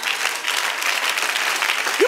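A church congregation claps and cheers in a lively burst of steady applause, with a voice starting up at the very end.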